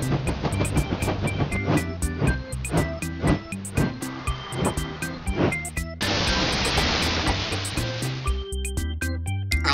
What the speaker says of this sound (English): I guess that means the train is stopping.